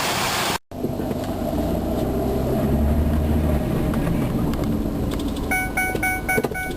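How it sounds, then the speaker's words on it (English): A car engine hums steadily while driving, with road and wind noise throughout and a few rattling clicks near the end. "it seems to be idling a lot better. Let's take it for a quick test drive."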